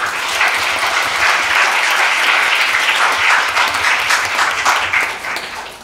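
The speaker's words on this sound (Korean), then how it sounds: "모든 분들께 박수를 한번 드리면서" A lecture hall audience at a Korea University talk event applauds the speakers and each other, with sustained, full clapping from many hands at a steady level that fades slightly at the close.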